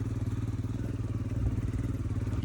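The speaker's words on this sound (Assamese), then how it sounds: "এতিয়া পুৰা বালিত, মানে নদীৰ শুকান বালিত বাইক চলাই আছোঁ আমি" Motorcycle ridden across dry riverbed sand, a steady low engine drone with a rumbling, slightly uneven pulse and faint clatter throughout, close and continuous with no talk.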